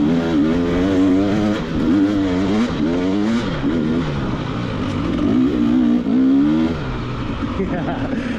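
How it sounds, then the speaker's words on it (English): A dirt bike engine drones and revs on trails near Kamloops, loud and close with rising and falling pitch as the rider works the throttle, with voices talking over it. "second ride on the dirt bike this year"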